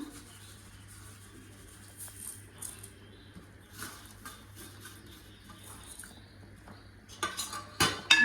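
A spoon stirs semiya payasam in a pot for an Onam sadya, giving soft scrapes and then sharper metallic clinks that grow louder toward the end, while a bird coos faintly in the background.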